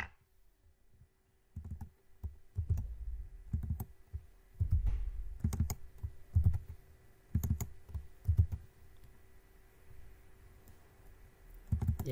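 Computer keyboard typing while coding, in irregular bursts of quiet clicks with short pauses, close and alone with no talk.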